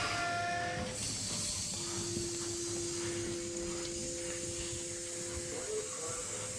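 A Sydney S-set electric train pulls out of platform 2 on a Leppington service with a steady rumbling roll and hiss. A long tonal whine rises through the middle, heard from the platform at moderate distance.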